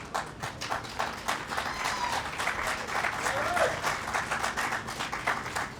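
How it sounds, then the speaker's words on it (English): A crowd at the Interfaith Solidarity March event in Los Angeles claps steadily, a lively dense applause with distinct rhythmic hand claps running throughout, fairly close and loud, with faint voices mixed in. "I'll assume that you're clapping for the march and not for me"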